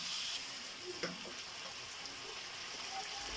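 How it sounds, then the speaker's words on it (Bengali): Yogurt-and-salt marinated chicken goes into hot frying spices for biryani, giving a steady, soft, continuous sizzle and hiss with no talking. "এই ম্যারিনেট করা মাংসটা আমি মশলার মধ্যে দিয়ে দিচ্ছি"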